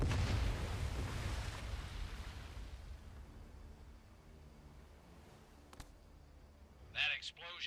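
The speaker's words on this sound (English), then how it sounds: "That explosion got the attention of all the German patrols in the area." A deep, rumbling explosion in the World War II game Medal of Honor Above and Beyond, booming loudly at the start and fading into a long low rumble, followed by faint clicks and a short voice-like sound.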